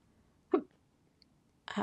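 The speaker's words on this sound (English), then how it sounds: "Uh-oh, I've got the hiccups." Two abrupt, short hiccups sound close in a quiet room, about a second apart, each a sharp little throaty catch with nothing else around them.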